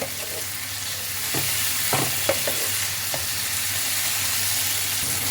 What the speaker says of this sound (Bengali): মশলাটাকে ভালোভাবে একটু ফ্রাই করে নিতে হবে